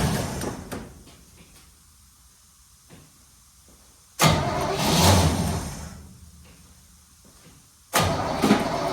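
A 1972 Chevrolet C10 truck's engine cranks on the starter in two loud, close bursts after a quiet stretch, the second burst coming near the end.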